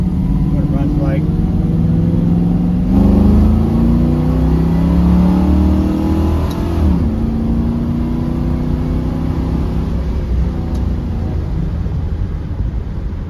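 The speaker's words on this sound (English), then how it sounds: "this is an exceptionally strong running 351 Windsor that really runs well" A 1969 Ford Mustang coupe with a 351 Windsor V8 drives along, its engine rumbling steadily and rising in pitch as it accelerates and shifts, loud and close throughout with someone talking over it.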